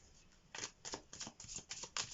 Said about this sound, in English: Let's get these cards shuffling.